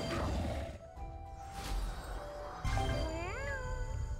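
A cat meows in the mobile game Diosa Force, a drawn-out pitch-bending cry that rises and falls, repeated over game music and effects with no speech.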